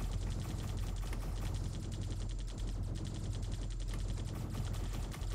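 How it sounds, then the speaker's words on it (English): Rapid turret fire in the Centauri Sector video game: a fast, even stream of sharp repeating shots that continues almost without a break and stays loud and close throughout. "Oh, that is a much faster turret."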